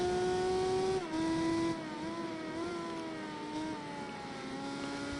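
A rear-wheel-drive race car with a six-speed gearbox and turbocharged V6 holds a steady, loud high-pitched engine drone as it runs around a track, the pitch stepping briefly at a shift and then carrying on evenly.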